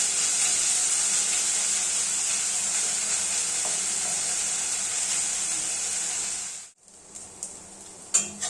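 Pieces of meat fry with a steady, fairly soft sizzle for fried rice, then the sound cuts off abruptly, followed by a few clattering stirs.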